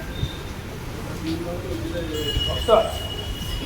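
A metro train rumbles low and steadily at an underground station, with a sharp wheel squeal near the end. Muffled voices and crowd noise sit under it.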